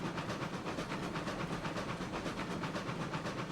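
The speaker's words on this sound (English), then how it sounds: "This locomotive apparently does not really care for hills." A steam locomotive in the RailRoads Online game chuffs steadily as it climbs a hill, its quick, even hissing beats heard up close with no break.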